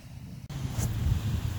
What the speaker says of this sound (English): It's a windy, cold day today, and I don't know if you can hear it